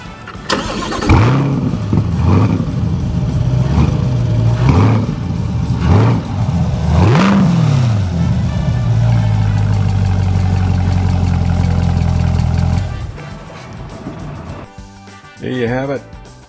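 A Callaway Corvette C8 Launch Edition engine with Callaway exhaust cranks and fires, then revs hard several times in loud bursts before settling into a deep, rumbling idle, which cuts off near the end.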